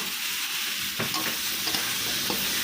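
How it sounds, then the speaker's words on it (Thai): Fish tofu stir-fried with chili, garlic and shallots gives a steady, close sizzle, with a few sharp spatula scrapes and knocks against the pan breaking through. "ผัดคลุกเคล้าให้เข้ากันค่ะ"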